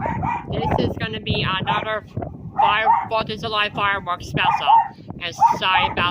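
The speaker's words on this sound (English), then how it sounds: "That's just my dog barking over some fireworks." Dog barking in the background during 4th of July fireworks, occasional yips and barks faint under continuous close talk throughout.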